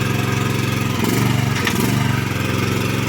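A homemade universal platform machine for working the land drives along under a steady, loud engine drone that chugs rapidly and evenly and rises slightly in the middle, close and without speech.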